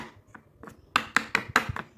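A spoon stirs a homemade face mask of mixed ingredients and honey in a small bowl, making close, quick scraping taps in an uneven rhythm that grow louder partway through.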